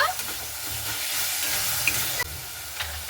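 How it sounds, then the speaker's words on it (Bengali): Onion masala for a Bengali rui fish curry fries and sizzles in a pan with a steady hiss, while a spoon scrapes and stirs through it with a few soft knocks against the pan. "ঢাকাটা উঠিয়ে একটু ভালো মতো করে আবারও নাড়াচাড়া করে নেব"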